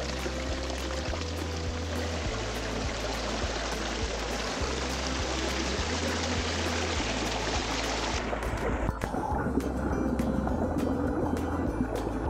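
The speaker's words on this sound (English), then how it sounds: "I love fountains on a warm day." Water pours and splashes steadily in a public outdoor fountain on a warm day in Narbonne, a continuous close splashing wash with a low tonal hum underneath that drops away partway through.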